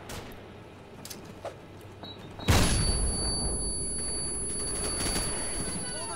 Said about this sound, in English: I might have to throw another flashbang in there